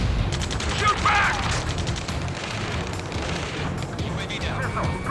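Gunfire in the Ace Combat 7: Skies Unknown combat video game, a rapid series of sharp shots and bursts rattling under voices and background noise, with a muffled boom near the start.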